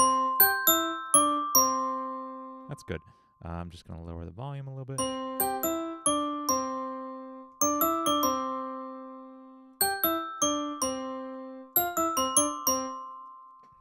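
Clean synthesized bell tones in a music production session ring in bright, decaying strikes, some in quick clusters, while someone talks briefly over a short gap in the middle.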